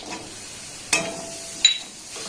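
Raisins added to cashews frying in ghee give a soft, steady sizzle with a couple of sharp stirring clinks, close and alone without talk.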